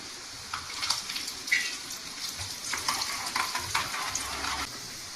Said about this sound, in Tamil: பூண்டு நல்லா வதங்கணும்.